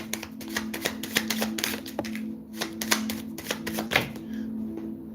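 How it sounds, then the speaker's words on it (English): Tarot cards are shuffled by hand in a series of sharp, riffling clicks and slaps, irregular and close, repeating through the clip over a steady low hum with no talking. "One more shuffle."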